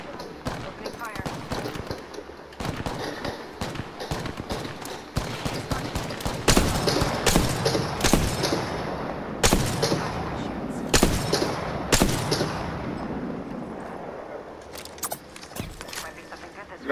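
Gunfire in the Apex Legends video game on PS5: sharp, loud bursts and single shots cracking irregularly over a firefight, spaced through the stretch with quieter gaps and bits of game voice beneath.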